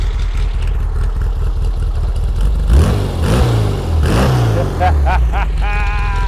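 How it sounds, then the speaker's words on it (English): Engine of a 1955 Porsche 356 Roadster widebody replica revved up close in repeated rising and falling bursts over a steady idle, with people talking around it. "Bo Biddle, give me some revs."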